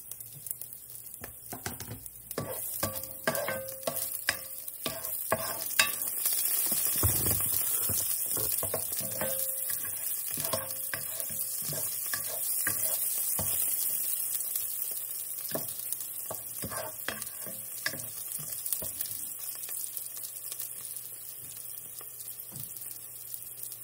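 Garlic frying in a pan for lengua estofado, a steady hiss of oil sizzling close by, broken by frequent scraping and tapping of a spatula against the pan over a long stretch, with no voices.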